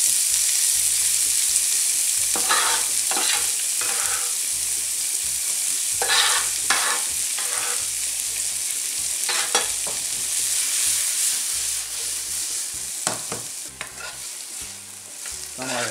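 Onion and garlic fry in hot oil in a pan with a loud, steady sizzle, broken by several bursts of stirring scrapes close by.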